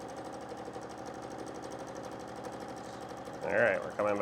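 Sewing machine stitching while quilting fabric, a fast steady mechanical whir close by, with a voice speaking briefly near the end.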